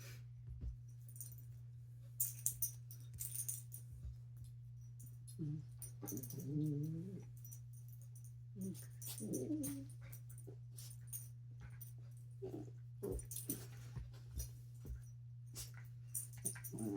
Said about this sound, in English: the weird moaning in the background is just my dogs fighting with each other